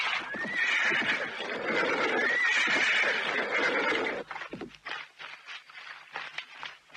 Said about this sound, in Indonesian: Aku akan menumpang kereta kuda itu. Berhenti!